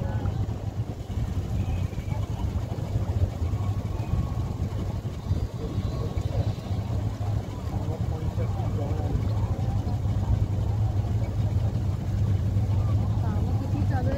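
Motorboat engine on the river at Triveni Sangam, Prayagraj, running as a steady low drone throughout, with people talking over it and machinery working nearby.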